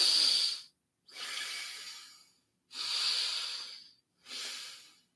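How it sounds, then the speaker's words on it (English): Four slow, deep breaths, each a long airy rush lasting about a second with short silent gaps between, close and fairly soft with no other sound around them. "I recommend taking deep breaths"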